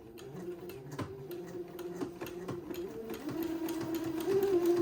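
A sewing machine zigzag-stitches entredeux lace onto fabric for a baby daydress, making a quiet, rapid mechanical ticking with a steady hum that builds slightly in loudness.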